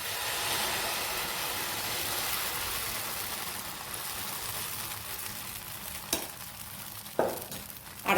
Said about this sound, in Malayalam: നല്ല ചൂടായ എണ്ണ തേച്ച കല്ലിലേക്ക് നമുക്ക് മാവ് ഒഴിച്ചു കൊടുക്കാം.